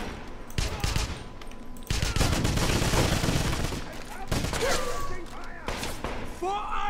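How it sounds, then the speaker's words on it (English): Sustained bursts of rapid automatic gunfire and explosive thuds in the Wolfenstein 2 video game, loud and dense throughout, with shouted voice commands cutting in near the end. "Give me suppressing fire!"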